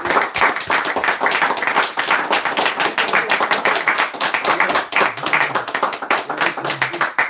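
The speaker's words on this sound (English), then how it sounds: "Hand claps, man." Close, loud hand claps during a live stream, a rapid, fairly regular string of sharp claps from a small group, continuing without pause.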